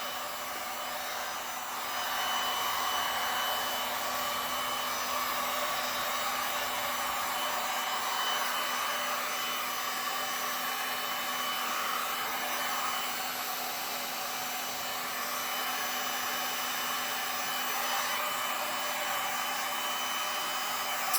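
Hair dryer or heat gun blowing steadily on a resin painting, a continuous close, loud whirring airflow that holds for the full stretch with a slight rise early on.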